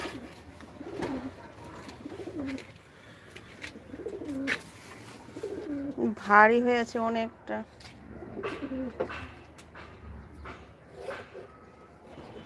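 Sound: pigeon cooing, trapped by kite string

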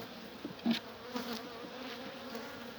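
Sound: honeybees buzzing at hive

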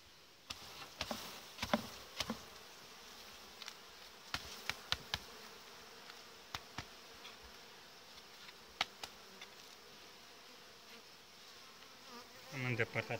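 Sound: honey bees buzzing

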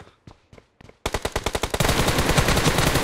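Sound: gunfire in the video game PUBG Mobile

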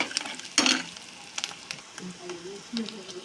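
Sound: ginger garlic paste frying in oil, stirred

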